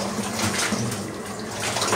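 Strong current of river water rushing past wooden debris, a steady loud broadband flow with a low rumble, continuous throughout with no pauses.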